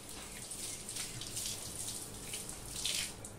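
Running tap water splashes steadily over jackfruit pieces being rinsed by hand, a continuous close gush with small shifts in flow and no talking.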